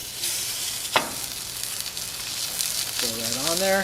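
Steak searing in a very hot, steamy pan, a steady loud sizzle with a sharp crackle near the start, while someone speaks briefly toward the end.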